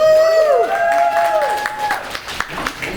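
Audience at a launch event claps and cheers, with whooping voices rising and falling over scattered hand claps, moderately loud and close.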